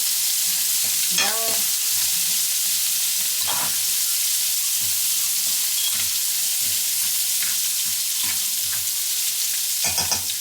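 Vegetables sizzle steadily in a pot on low heat while a fork stirs and scrapes against the metal in scattered strokes, loud and continuous with no talk.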